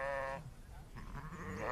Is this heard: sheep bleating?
yes